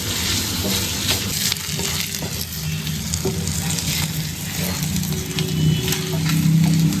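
Onions roast in a pan over the gas flame, giving a steady crackling sizzle with occasional stirring scrapes that swell slightly toward the end.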